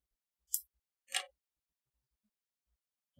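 Scissors cut out a waterslide decal in two crisp, close snips about half a second apart, set against near silence.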